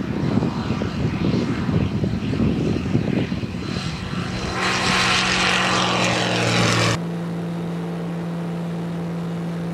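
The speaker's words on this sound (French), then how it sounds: "Ça y est, on décolle." A propeller airplane, small enough for a crew radioing the tower, takes off, its engine roaring loud and close with rattling bumps before settling into a steady drone.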